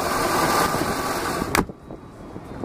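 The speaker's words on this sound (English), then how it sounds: "Motor is very quiet, runs very smoothly," The inboard engine of a 1999 MasterCraft Prostar 205 boat runs with a smooth steady hum, then drops abruptly quieter partway through, as if a cover closes over it.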